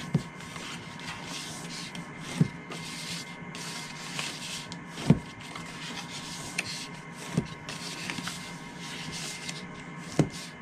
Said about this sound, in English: Now I'm just going to fold and burnish.